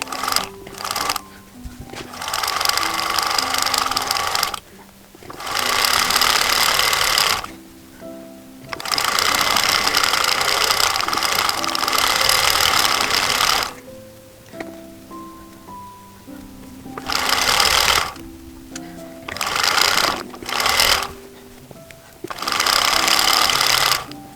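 A sewing machine stitches seam lines on a fantasy cloak in loud, rapid bursts of several seconds each, separated by short pauses and the soft rustle of fabric being repositioned.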